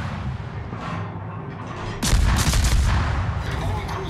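Heavy naval gunfire from warships in World of Warships erupts as a loud, sustained booming barrage after a couple of seconds of quieter game ambience, rumbling on to the end with no talking.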